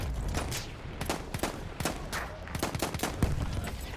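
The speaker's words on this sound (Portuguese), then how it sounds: "atirando no cara morto. Tô nem aí, atiro em todo mundo" Rapid bursts of gunfire ring out in a Battlefield 1 multiplayer match, a dense run of sharp, irregular shots and short volleys that continues without a pause over a noisy battlefield background.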